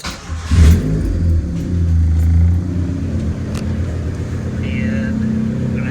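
A car engine fitted with a Hondata S300 version 2 computer chip starts and revs up, a loud close burst near the start settling into a steady idle with a voice talking over it.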